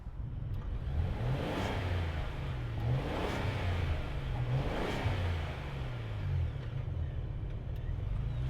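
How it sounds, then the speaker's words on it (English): A 2025 Lincoln Navigator Reserve SUV engine running steadily nearby, a low continuous hum rising in several gentle revving swells that come back at regular intervals. "let's fire this Lincoln up and see it navigate"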